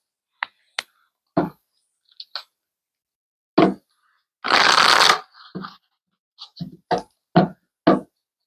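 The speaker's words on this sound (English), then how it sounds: "Let's pull some cards." Tarot cards being shuffled and handled up close: scattered sharp taps and flicks, then a dense riffling burst around the middle, followed by more separate card slaps.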